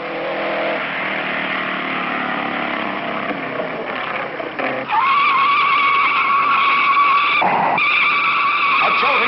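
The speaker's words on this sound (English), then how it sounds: "Crash, and Jimmy Daywalt skids to a stop." A race car skids and crashes at the 1956 Indianapolis 500, tires squealing in a long rising screech with engine noise that shifts midway into a harsher, sustained whine, fairly loud and with no talking.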